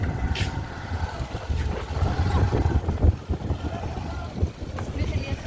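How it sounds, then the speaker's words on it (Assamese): Strong wind gusting outdoors beside an open field with hills in view, a steady low roaring rumble buffeting close to the microphone throughout, with faint voices underneath. "পুৰা বতাহ মাৰি আছে"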